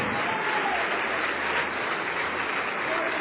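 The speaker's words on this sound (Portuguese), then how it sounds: "Vamos aplaudir ao nome de Jesus" Congregation applauding at a church service, a dense steady patter of many hands with no breaks, filling the room evenly throughout.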